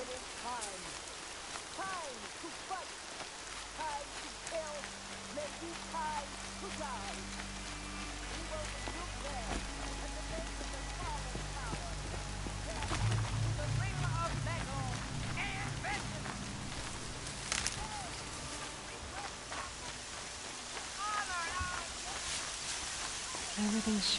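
Steady rain falls in the video game Horizon Zero Dawn, a constant patter at moderate level with faint game sounds and muffled voice-like tones mixed in.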